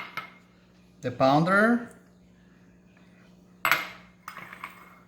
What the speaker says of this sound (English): Let's mix the ingredients.